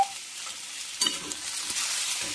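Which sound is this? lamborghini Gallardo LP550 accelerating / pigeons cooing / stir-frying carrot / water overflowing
stir-frying carrot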